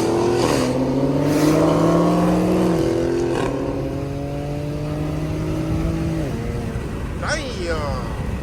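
A Dodge Challenger SRT 392 accelerates hard in manual mode, its V8 exhaust climbing through rising revs and gear shifts with crackling pops, loud and close from inside a chasing car, with a person talking over it.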